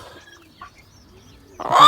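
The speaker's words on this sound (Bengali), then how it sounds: "এই তো আমাদের টাইগার মোরগ।" A rooster of the Tiger breed on a rooftop garden lets out a short, loud cluck close by at the very end, after near silence.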